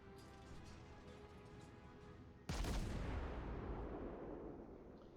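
A heavy naval gun volley booms out in World of Warships, one sudden deep blast that rolls into a long, loud rumbling decay after a steady background hum of the ship.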